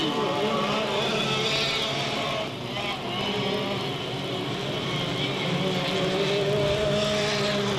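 Race cars roaring around the oval at Delta Speedway in 1998, a dense, continuous engine drone from several cars at once, loud and steady with only a brief dip, heard from the grandstand distance.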